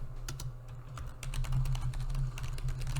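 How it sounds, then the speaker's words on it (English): Rapid typing on a computer keyboard clatters in quick, irregular keystrokes over a steady low hum, close and moderately loud, with no talking. "Good, Thunder is typing."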